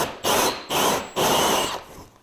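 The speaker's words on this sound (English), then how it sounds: "Drill my hole." A power drill bores a hole while being used from scaffolding under a high ceiling, in three loud whirring bursts separated by short pauses, with no talk.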